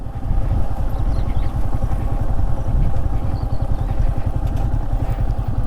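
A motorcycle on a monsoon ride through the Western Ghats in Coorg thrums loudly and close up, with a rapid, pulsing engine beat and a clattery mechanical texture that stays constant the whole time.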